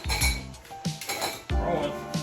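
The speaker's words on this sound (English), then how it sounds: "Let's grab a big old knife." Metal and dishware clinking as a big knife is picked up in a kitchen while raspberry scones are being cut, several close, bright clanks over a couple of seconds.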